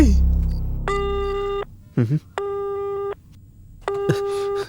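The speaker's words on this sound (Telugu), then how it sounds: "ఫోను వెళ్తుంది, లైన్ దొరుకుతుంది." A telephone ringback tone repeats in three steady, fairly loud bursts with short gaps while the call goes unanswered, and a brief voice-like sound falls between two of the tones.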